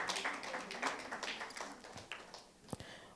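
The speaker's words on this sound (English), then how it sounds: "Please, a round of applause for her." A small audience at a breakout session on child nutrition applauds a panelist being introduced, a brief scattering of claps that thins out toward a few last taps.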